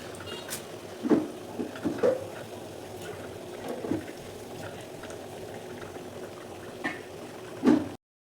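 A fenugreek (methi) snack bubbling as it fries in hot oil, a soft steady sizzle with a few clinks and bumps from a utensil.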